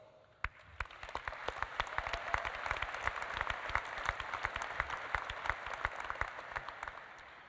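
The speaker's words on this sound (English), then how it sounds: "give yourselves a round of applause" Graduates at a spring commencement ceremony of the South Dakota School of Mines and Technology applaud in a large hall, a steady, moderately distant wash of many hands clapping that swells and holds throughout.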